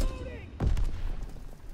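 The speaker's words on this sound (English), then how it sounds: "I don't know who's shooting at me." Gunfire in a World War II video game, a sharp heavy shot followed by rumbling bursts and distant crackling, with voices briefly audible at the start.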